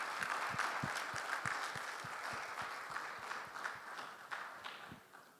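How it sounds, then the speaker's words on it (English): Applause from an audience at a business CEO summit in Ghana, a fairly quiet, steady wash of clapping with a few sharper, evenly spaced claps standing out, fading slightly toward the end. "Let's give him a round of applause"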